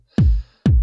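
Two punchy, deep kick drum hits processed with EQ and compression, evenly spaced, each with a tight attack and a short booming tail.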